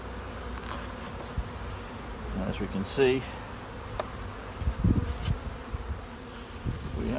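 Honeybees cluster inside a wooden hive opened in early spring after months closed, a low steady buzz with scattered knocks and handling noises, while a person speaks briefly.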